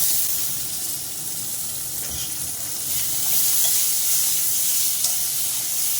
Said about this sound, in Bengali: আলুটা এই ভাজছি